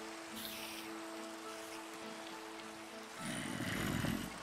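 Rain in the video game Minecraft, a soft, even hiss of falling drops that runs throughout and swells louder toward the end, with no voices.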